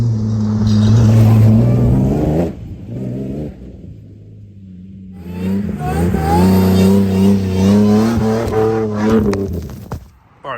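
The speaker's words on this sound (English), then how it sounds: "I'm gonna zing past here in third gear and check this out." A supercharged Toyota Hilux with an L67 engine swap passes in third gear, its engine note rising loud and close, easing briefly, then swelling again before fading out.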